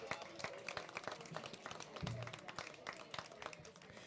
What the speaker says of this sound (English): may we get one more round of applause for all our virtual performances here tonight